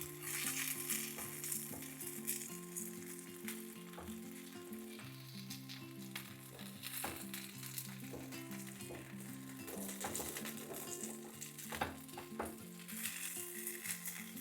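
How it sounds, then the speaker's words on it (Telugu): Paneer tikka pieces fry in a little oil in a pan, giving a constant crackling sizzle with occasional clinks and scrapes of a utensil, while a melodic tune plays underneath throughout. "ఒకవైపు మంచి ఫ్రై అయిన తర్వాత రెండో వైపు తిప్పుకోవాలి"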